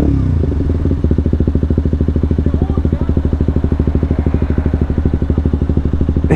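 A motorcycle idles in traffic, its engine beating in a loud, close, even pulse that runs steadily to the end.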